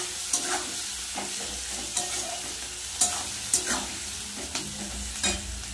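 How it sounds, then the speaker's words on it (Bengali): Salted onions fry in a pan for a chicken kosha with a steady close sizzle. Periodic louder scrapes and stirs of a spatula break through the frying at an even, moderate level. "এদিকে তো পেঁয়াজটা ভাজা হচ্ছে"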